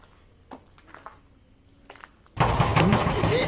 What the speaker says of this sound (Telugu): రేకుల సౌండ్ చూసావా?